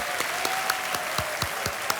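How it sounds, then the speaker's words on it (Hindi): A studio audience claps steadily on a television quiz show, Kaun Banega Crorepati, a dense wash of applause with sharper individual claps popping through, loud and close, with no voices over it. "तालियां बज जाए मृदुल के लिए।"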